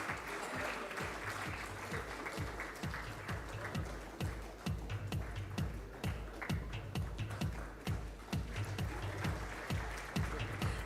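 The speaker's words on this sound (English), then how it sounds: "The applause can be a lot more energetic." An audience claps at the Aster Guardians Global Nursing Award 2024 ceremony, a steady, fairly even wash of applause sustained for about eleven seconds over a low rhythmic pulse in the hall.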